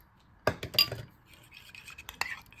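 A spoon clinks and scrapes against a bowl in short bursts while stirring a mixture with a little water, quiet and close, with a few soft rattling touches.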